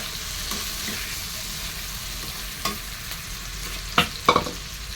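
Carrots and beans stir-fried in a pan after frying prawns, sizzling steadily up close, with a few sharp spatula knocks and scrapes near the end.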